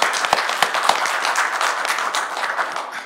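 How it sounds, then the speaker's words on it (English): Audience at a civil rights panel discussion giving a presenter warm applause, dense sustained clapping from a sizeable crowd with a few crisp nearby claps at the start, gradually tapering off at the end. "I hope that you will, again, give her a round of applause."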